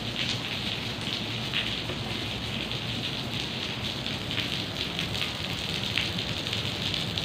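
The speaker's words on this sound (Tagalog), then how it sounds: "Tuloy-tuloy ang ulan." Steady rain pours continuously onto surfaces nearby, a dense unbroken hiss with scattered drips and splashes.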